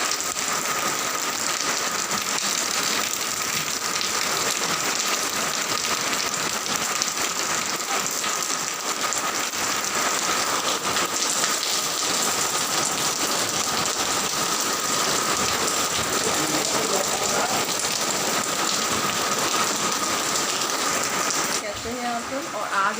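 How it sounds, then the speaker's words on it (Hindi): Heavy monsoon-season rain pours down steadily in a dense, continuous hiss, drumming on surfaces close by without letup for the whole stretch, no voices over it. "बहुत भयानक बारिश हो रही है।"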